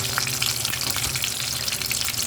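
Falafel, Riyadh-style with Yemeni flavour, frying in hot oil: a dense, steady sizzle and crackle that runs unbroken and fairly loud throughout.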